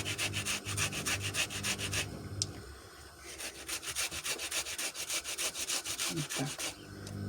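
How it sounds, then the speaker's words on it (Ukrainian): An onion is rubbed against a kitchen grater in quick, regular strokes. The close rasping scrapes pause briefly, then resume in a steady rhythm. "Беремо цибулинку і тремо."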